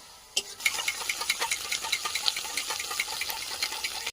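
Ground whole-spice paste is stir-fried in a pan for a yogurt fish curry, a close, continuous sizzle broken by quick rhythmic scrapes and taps of the spatula against the pan.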